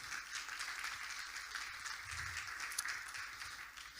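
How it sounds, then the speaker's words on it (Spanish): A church congregation applauding together during a worship service, a steady, dense wash of clapping that sounds fairly distant and even throughout, with no talking over it. "Dar un aplauso al Señor."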